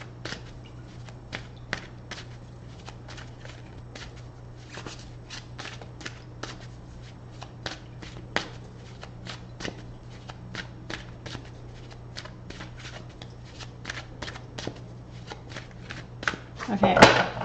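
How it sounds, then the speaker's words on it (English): Tarot Grand Lux tarot deck by Sarah Marchetti being shuffled and cut, a long steady run of soft repeated card riffles and slides, close, with a louder flurry near the end, under a low constant hum and speech. "I'm gonna cut it. And if any of you are interested, this deck is called Tarot Grand Lux by Sarah Marchetti."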